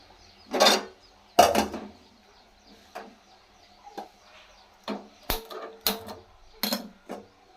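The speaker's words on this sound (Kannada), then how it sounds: "ಬಾಣಲಿ ಇಟ್ಟು ಆಯಿಲ್ ಹಾಕೋಣ" A frying pan being set down on a stove before oil goes in for potato masala fry, heard as a few separate close clanks and knocks with quiet gaps in between.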